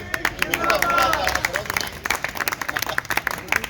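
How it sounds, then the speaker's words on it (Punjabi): Audience applause at a Punjabi literary fair, a burst of clapping that swells early and then breaks into scattered, uneven claps with crowd murmur and voices throughout. "ਹਾਂ ਤਾੜੀਆਂ ਮਾਰੋ"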